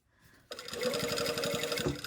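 A sewing machine bastes a coat's shield at the curved neckline, starting after a brief quiet moment and then running steadily and close at a slow, even stitching pace.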